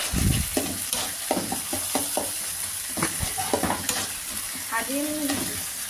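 Spices being mixed into sesame bhorta in a hot pan with onion, salt and chili powder, producing steady scraping stirs and a soft sizzle, close and clear with no voices.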